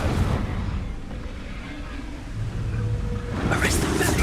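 An Incendio fire spell erupts in Hogwarts Legacy combat: a heavy, rumbling whoosh of flame that swells into a broad, thunder-like roar, with game voices mixed in.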